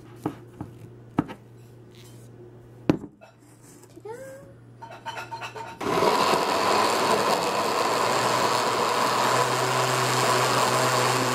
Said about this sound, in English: Mason jar blender hack smoothie.